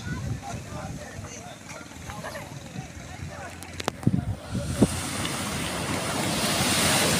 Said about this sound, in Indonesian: Ini suasananya Pantai Selonjanak guys.